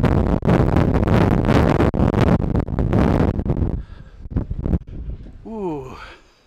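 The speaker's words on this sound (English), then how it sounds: "That wind is a killer." Strong wind buffets the microphone outdoors in the town of Creel, Mexico, a loud roaring rumble with gusty surges that eases after a few seconds, while a voice speaks nearby.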